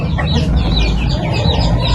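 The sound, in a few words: laying hens of free-range native chickens clucking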